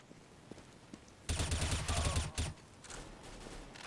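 Rapid automatic gunfire in the video game CS:GO, a loud burst of closely spaced shots lasting about a second, then a few trailing rounds and quieter game sounds.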